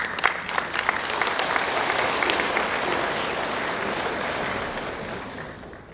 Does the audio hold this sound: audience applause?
yes